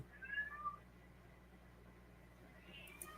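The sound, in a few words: cat meowing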